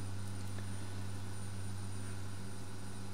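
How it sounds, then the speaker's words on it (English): Carenado B200 King Air propeller engines in X-Plane droning continuously, a loud steady low hum with a constant buzzing tone and no variation, no voices. "it's annoying when the plane's buzzing away in the background"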